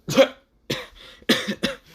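A voice imitates coughing: a few harsh, raspy coughs in quick succession, close and fairly loud.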